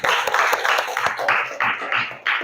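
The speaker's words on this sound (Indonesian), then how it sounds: "Kasih tepuk tangan lagi untuk kita semua." A classroom audience claps together, a short burst of loose, uneven applause with distinct hand claps audible and a voice speaking over part of it.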